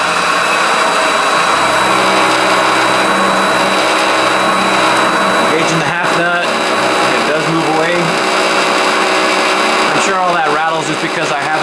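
A TS-210 8x16 benchtop metal lathe runs steadily at about 1300 RPM in low gear, bolted to a wooden base, giving a loud continuous whine and hum with harmonic tones and a rattle. Speech is heard over it.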